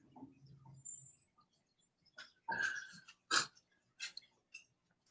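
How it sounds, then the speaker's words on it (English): A dog makes faint, scattered snuffling and whimpering noises in a quiet indoor room, in short bursts separated by silence. "It's a dog."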